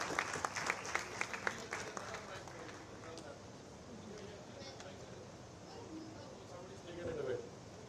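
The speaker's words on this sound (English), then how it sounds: "if we can have a huge round of applause for all of us and all the women who are trying to pave the way" A conference audience claps after an interaction session with innovators and IT professionals, the sharp claps sparse at first, then blurring into a softer sustained patter with murmuring voices underneath.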